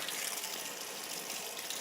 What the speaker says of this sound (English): So actually the water's circulating all through the pump.